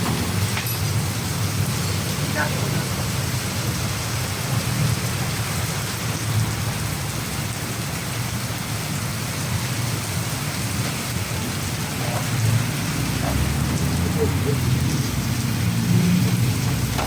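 Steady heavy rain drums across the whole stretch with low rumbling thunder underneath, a constant dense wash of downpour heard close and loud, with no voices.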